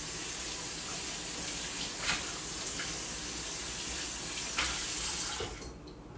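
Tap water runs steadily into a sink while a container is rinsed out, a continuous close hiss with a couple of brief splashy clatters, cutting off near the end.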